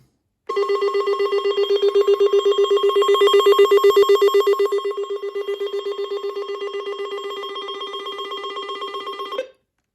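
A loud, continuous electronic alarm tone from an Alert Works EAR-10 weather alert radio pulses rapidly and evenly for about nine seconds, then cuts off abruptly.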